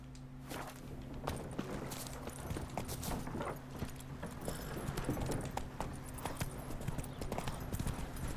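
Geralt's horse runs in The Witcher 3: Hearts of Stone, its hooves pounding in a fast, steady, continuous rhythm of clear clip-clops that carries on throughout.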